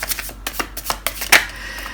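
Tarot cards are shuffled and pulled from a deck at close range, a quick run of papery flicks and riffles with one sharper snap near the middle.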